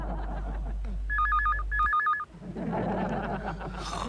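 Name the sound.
telephone ringing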